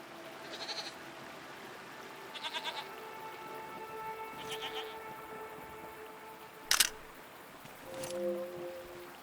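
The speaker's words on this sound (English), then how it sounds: "What are these strange goat-like creatures?" Goat-like creatures from the video game Season: A Letter To The Future, several wavering bleats spaced a few seconds apart over a quiet ambient bed, with one sharp click midway.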